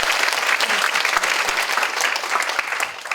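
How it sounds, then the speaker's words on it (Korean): A symposium audience marking the first anniversary of Pope Francis's election gives a full, sustained round of applause, close and even throughout the short span. "다시 한번 큰 박수 좀 부탁드리겠습니다."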